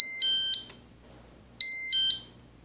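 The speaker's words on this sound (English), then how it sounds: "The alarm's going to go off" A Kason Sentinel coolroom and freezer door alarm sounds two loud, piercing electronic beep bursts separated by a short chirp, each tone sharp and clear against silence.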